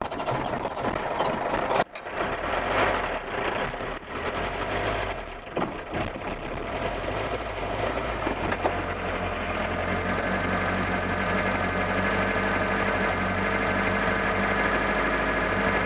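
An old 1990 Iveco Daily 35-8 diesel runs roughly and loudly close by, a steady low rumble with knocking and vibration, a brief jolt early on, then settling into a harsh, uneven idle.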